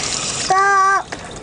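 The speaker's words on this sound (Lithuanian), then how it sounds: "Puiku, pripilkim vandens." Water is poured into a small watering can in a short, loud burst lasting about half a second, with a rising tonal fill note, between softer hissing running water.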